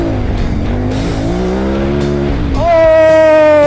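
A KTM 990 Adventure motorcycle engine revs hard as the rear end slides out, pitch climbing and dropping through gear changes before surging into a loud, high sustained wail near the end.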